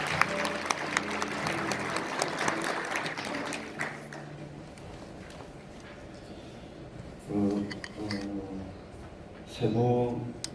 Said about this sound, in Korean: 김평환 한국자유총연맹 사무총장님께 여러분 큰 박수 부탁드리겠습니다